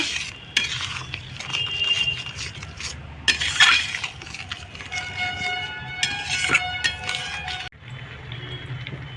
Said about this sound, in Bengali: এই মশলাটা আবার কষতে দিতে হবে, যতক্ষণ না তেলটা একটু উঠছে ততক্ষণ মশলাটাকে আমি একটু কষে নেব